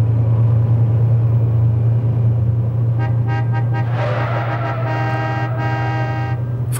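A car overtaking a column of vehicles on the road, with a steady low engine drone throughout and horn-like tonal notes joining partway through as it passes.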